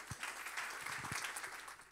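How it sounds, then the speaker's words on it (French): Applause and acclamation from a church congregation welcoming its pastor, a soft, distant, steady wash of clapping with no distinct individual claps. "est-ce qu'on peut l'accueillir par des acclamations?"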